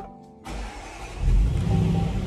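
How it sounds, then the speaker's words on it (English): A Range Rover Sport 5.0 V8 petrol SUV starts up after a brief starter whir, catching with a loud low roar that swells into a strong, steady idle. "Now, we'll just start the engine."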